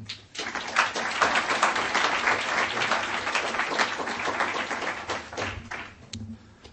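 A conference audience breaks into sustained, dense applause to welcome a speaker at a talk on transatlantic relations and NATO, steady clapping filling the room for several seconds before tapering off.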